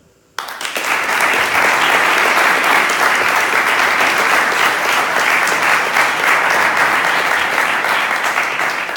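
Dense, steady applause from the audience at a political youth group launch in Uruguay, starting abruptly and holding loud and continuous for several seconds.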